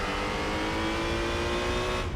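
A race car engine in the Gran Turismo 4 racing game, held at very high revs with a loud, steady, whining drone for about two seconds and no talk over it.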